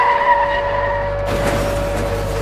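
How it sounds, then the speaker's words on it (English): A car's tires skid and squeal loudly amid street traffic, a sustained screech with engine rumble underneath that cuts into a broad noisy roar partway through. "I can see multiple accidents causing huge traffic jam"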